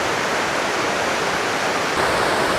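A waterfall in a Scottish glen pours in a steady, loud, close roar of broadband rushing water, continuous and unbroken with no voices.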